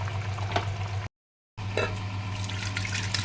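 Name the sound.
pouring capsicum paneer potato curry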